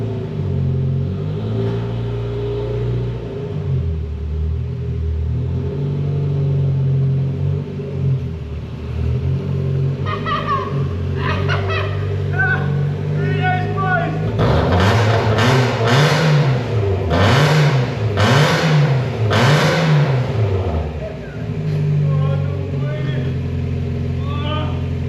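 A lifted off-road Mazda MX5 on chunky tyres idles with a low rumble, then its engine revs up and down several times in quick, loud surges before settling back.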